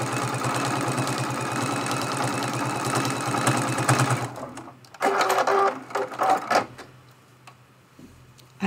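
A sewing machine stitches a seam on a pin cushion in a steady fast whir for about four seconds, then stops, followed by a few short clicks and fabric handling sounds.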